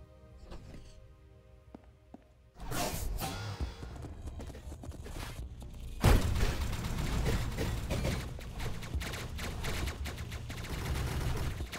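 Gunfire in the top-down action game Hyper Light Drifter, a dense run of loud shots and thuds that bursts in a few seconds after a quiet start and continues with a sharp hit midway.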